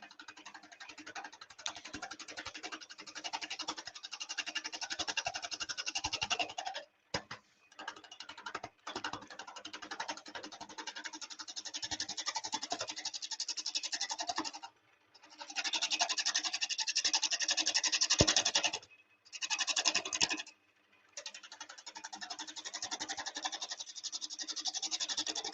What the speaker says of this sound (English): Just a 1/2-inch spindle gouge now.